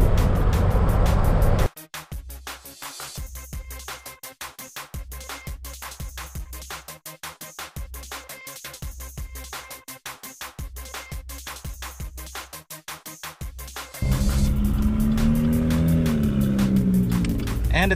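A GMC 2500 HD pickup truck drives during a brake test, its engine and road noise running steady and close, with a louder broadband rumble near the end as it slows.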